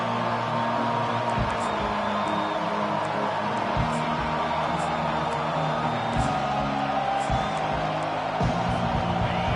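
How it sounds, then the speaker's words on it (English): A home crowd roars loudly and steadily at a college football game between Oregon and SMU, with dense sustained cheering, occasional thumps and a commentator's voice running underneath throughout. "And how nice is it to have the home crowd going absolutely bananas?"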